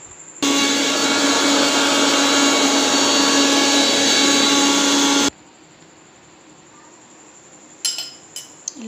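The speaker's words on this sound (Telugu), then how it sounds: "మిక్సీ పట్టుకోవాలండి." A mixer grinder blitzes dried red chillies, garlic cloves and salt in a loud, steady whirring burst for about five seconds, then stops, leaving faint clinks and handling noises.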